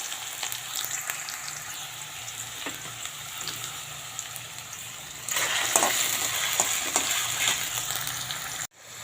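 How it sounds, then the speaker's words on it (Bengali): Potatoes sizzle in a pan of oil with salt and turmeric, a constant crackling hiss that grows noticeably louder partway through, stirred now and then, and no one speaks. "আলুটা একটু ভেজে নেব"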